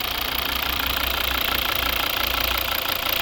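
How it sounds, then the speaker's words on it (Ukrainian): A 2012 Volvo V60 2.0 D4 diesel engine idling close by, a steady, continuous rumble with a rhythmic knocking clatter throughout. "Ось робота двигуна"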